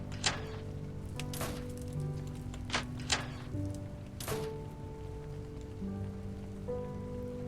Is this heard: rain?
yes